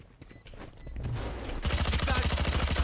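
Rapid gunfire from the video game Valorant, starting after a quieter stretch of faint game sounds and then rattling off as a fast, steady burst of closely spaced shots that stays loud to the end.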